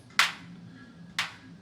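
Two crisp clap drum hits in an Ableton session played from a Push 3 and MIDI controller, spaced about a second apart over a faint steady background hum.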